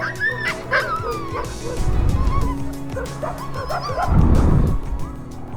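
A dog whimpers and yips in short, high, whining bursts while it plays, close by. Low rustling and scuffling sounds rise and fall underneath.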